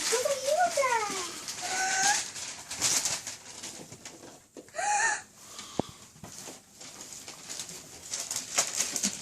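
Pet birds received as a Christmas gift coo and chirp at close range amid a lively family Christmas morning, with voices talking over the calls and a short burst of wing flapping partway through.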